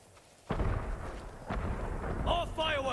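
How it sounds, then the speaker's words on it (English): Fireworks boom in Ghost of Tsushima on Iki Island, two heavy blasts a second apart with rumbling crackle, followed by whistling and crackling bursts, loud and close. "More fireworks! On all sides!"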